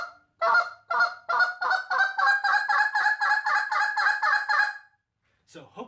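A goose call is blown in the quick spit style: about a dozen rapid honking notes building in intensity with sharp crack-overs, then a brief pause and a short final note.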